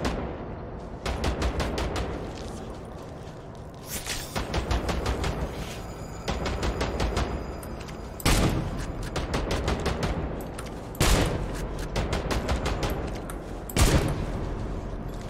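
Rapid bursts of automatic gunfire from a robot in the video game INSOMNIA: The Ark, loud and close, with dense rattling volleys repeating across the stretch and sharp heavier blasts standing out between them.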